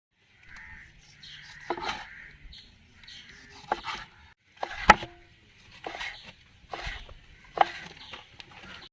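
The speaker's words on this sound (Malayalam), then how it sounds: "നമുക്ക് നുറുക്കാൻ നോക്കിയാലോ." A knife cuts boiled pork into pieces. About half a dozen faint, irregularly spaced chops and thuds sound against a quiet background, with no talking.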